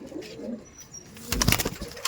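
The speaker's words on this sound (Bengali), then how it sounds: "পায়রা সব" Punjabi pigeons coo softly at a loft, with low throaty calls and some fluttering, and a louder burst of wingbeats and rustling near the end.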